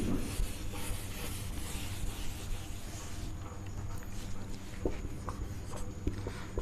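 Pen writing by hand on a board or paper during a chemistry lesson, a steady soft scratching with small strokes and taps running throughout, fairly quiet and close, with no clear talking.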